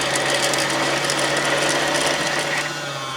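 A Baby Lock Zest sewing machine winds its bobbin with a steady, close mechanical whir and fine ratcheting clicks that run continuously and ease slightly near the end.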